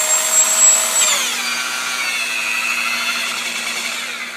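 A DeWalt DWP849X rotary polisher runs with a steady electric motor whine that drops slightly in pitch after about a second as it settles under load, a constant close hum with no talking.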